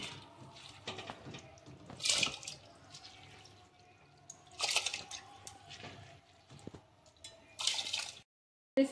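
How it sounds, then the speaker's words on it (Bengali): Washed rice tipped into a hot pan for fried rice, making several bursts of wet hissing and rattling grains, close by, with quieter gaps between bursts. "এবার তাতে আমি ধুয়ে রাখা চালগুলি দিয়ে দিচ্ছি"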